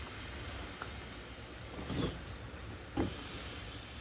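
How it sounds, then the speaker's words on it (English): Burgers go into a preheated air fryer set to 400 degrees, which gives off a steady, even hiss with a soft fan whoosh. Two brief clunks or handling bumps come partway through. "Once our air fryer is preheated, we'll take our burgers and set them inside here."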